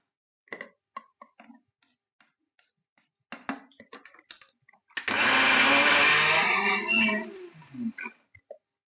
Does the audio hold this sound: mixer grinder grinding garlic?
yes